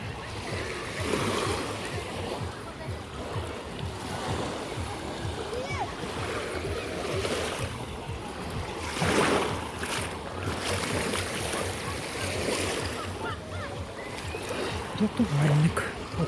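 Waves wash steadily at the open city beach in Chornomorsk, with faint boat noise and splashing in the distance and a person talking quietly over the surf.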